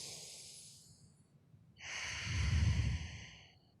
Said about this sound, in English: If you take a really deep breath,